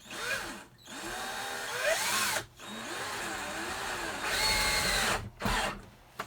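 A power drill drives screws into a bus conversion build in several whining bursts, each ramping up and stopping abruptly with short pauses between, close and fairly loud.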